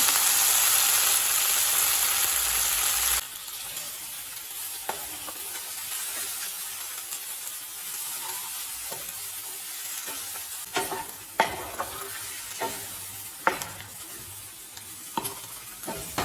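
A bunch of coriander leaves sautéed in a pan, opening with a loud steady sizzle that drops to a softer crackle, broken by occasional scraping stirs of a spoon.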